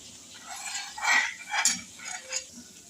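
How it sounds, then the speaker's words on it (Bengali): A ladle stirs a milk and yogurt mixture in a pot for baked custard yogurt, producing soft sloshing swirls and a few light metallic clinks close by. "এগুলো একটুখানি ভালো করে এইভাবে হাতায় করে মিশিয়ে দিতে হবে"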